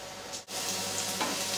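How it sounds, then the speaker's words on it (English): Onions for a pea curry sizzle and crackle steadily in a frying pan, close and constant, with a brief stirring scrape partway through. "So I'm frying onions to go in my pea curry."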